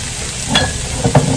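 Garlic added to a hot pan of cooking chicken sizzles steadily, with a couple of brief stirring scrapes over the frying hiss.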